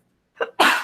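A person sneezes once, nearby and loud: a short indrawn breath followed by a sharp, bursting expulsion that fades out.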